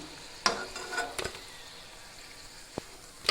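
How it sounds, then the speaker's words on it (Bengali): Green banana koftas fry in hot oil with a soft, steady sizzle, broken by a few sharp clicks and scrapes of a utensil stirring and lifting them from the pan. "সমস্ত কোপ্তা এইভাবে ভেজে"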